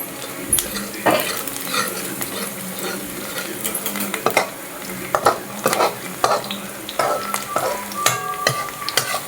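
Onion and chillies for poha fry in a pan with a sizzle beneath frequent sharp clinks and scrapes of a spoon stirring against the metal, close and uneven in rhythm; no speech.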